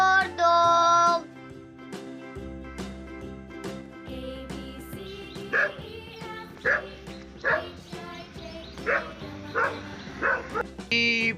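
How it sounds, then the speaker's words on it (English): Cartoon-style dog barks and yips, repeated in short bursts over a bouncy children's alphabet song with steady music throughout. "D for dog."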